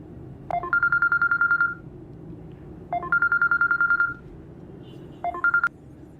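A phone call is placed and rings unanswered: a dial tone is followed by three bursts of rapid repeated electronic ringback pulses, each lasting about a second, with quiet gaps between them.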